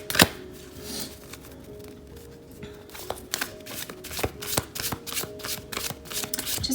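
Angel oracle cards being shuffled in a steady run of crisp, rapid riffling clicks and flutters, close up, with no talking.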